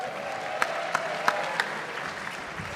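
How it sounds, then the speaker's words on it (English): A theater audience at a Game of Thrones panel applauds in a steady, even wash, with a few sharper individual claps standing out near the front. "give a nice round of applause"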